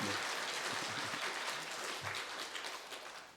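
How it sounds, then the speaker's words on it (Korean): Applause from a church congregation during a Sunday morning Easter service, broad steady clapping that stays fairly quiet and distant, with faint low voices murmuring beneath it. "우리 함께 하나님께 영광의 박수 올려드릴까요?"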